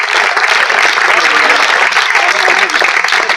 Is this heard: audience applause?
yes